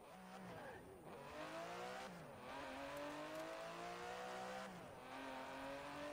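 GT race car engine in Forza Horizon 4, revving steadily with rising and falling pitch through gear changes, a continuous loud drone with brief dips and faint tire squeal, no talk.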